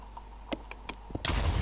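Several short clicks and pops lead into a sudden loud, rumbling Minecraft explosion that keeps roaring to the end.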